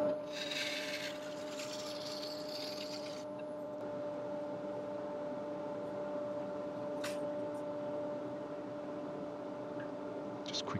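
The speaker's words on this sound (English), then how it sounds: "So I switched over now to 3/4 inch heavy duty scraper, just to refine that shape that I want on the inside of the bowl." A 3/4 inch heavy duty scraper cuts the inside of a large live-edge yew wood bowl spinning on a lathe, giving a steady rasping, scraping drone with a constant motor hum underneath, louder and harsher near the start.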